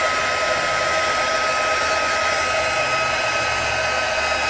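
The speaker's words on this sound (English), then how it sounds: "it's been melted with the heat gun" A heat gun melts embossing powder for a double-embossed stamp, producing a steady, loud, unbroken blowing roar with a faint whine, close by and with no talking.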